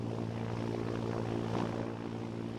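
A propeller aircraft engine in a flight video game drones at a steady, fairly loud hum with a strong low tonal throb, holding constant as throttle is brought up, with no voices.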